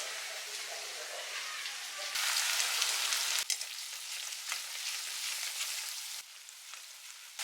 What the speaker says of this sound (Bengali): পেঁয়াজটা ভালো করে ফ্রাই করে নিয়ে জিঞ্জার গার্লিক পেস্ট অ্যাড করে দিয়েছি।